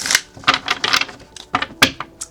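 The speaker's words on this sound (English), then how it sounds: "One more shuffle." Tarot cards being shuffled by hand, a series of crisp, close riffling bursts with short pauses between them, no talking.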